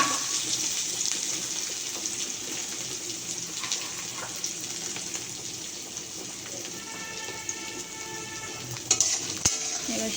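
Onion frying in a pan for a Bengali egg curry makes a steady, close sizzling hiss with faint crackles. A couple of sharp clicks come near the end, and no one speaks.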